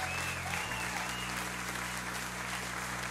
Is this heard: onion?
no